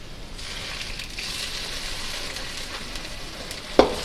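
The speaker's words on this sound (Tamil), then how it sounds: "இப்போ வெங்காயம் வதங்க ஆரம்பிச்சிருச்சுங்க. நம்ம இது கூட இஞ்சி பூண்டு சேர்த்துக்கலாங்க." Onion, ginger and garlic sauté in hot oil for a chicken gravy, giving a steady close sizzle with one sharp clink of a utensil near the end.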